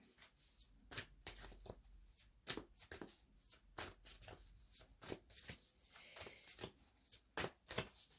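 A tarot deck shuffled by hand, producing a steady run of crisp riffling card flutters, one after another, close and clear with no talking.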